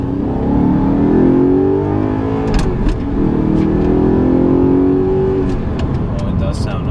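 An Audi R8 engine with no exhaust fitted revs hard and loud with a raw, rising roar, easing off and climbing again, while people talk underneath.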